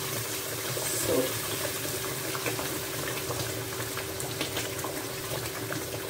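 Blended mixed pepper is poured into a cooking pot for Nigerian stew, making a continuous close liquid pouring and gurgling sound that runs steadily throughout.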